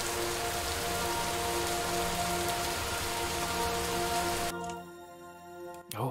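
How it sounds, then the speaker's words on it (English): Steady rain pours down in the video game Superliminal, a dense, even hiss that fills the scene for several seconds before dropping away sharply near the end, leaving only a faint remnant. "God, I love rain."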